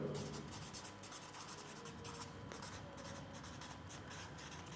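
A pen writing out a maths statement on paper or a board, a continuous scratchy rubbing stroke after stroke, close and fairly quiet with faint room noise.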